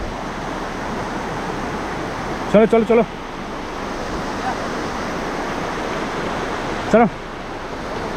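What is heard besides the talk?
small mountain river flowing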